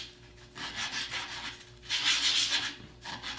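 Wood segments being lightly hand-sanded with 220 grit sandpaper to knock burrs and fuzz off the corners, heard as repeated close rubbing strokes in bursts, with the loudest pass near the middle.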